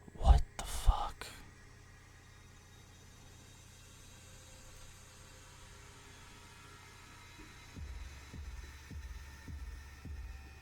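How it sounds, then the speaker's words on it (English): A heartbeat sound effect from the Pokemon Rejuvenation video game: after a few short bursts at the start and a long quiet stretch, deep, regular thumps pulse steadily near the end. "And the heartbeat increases."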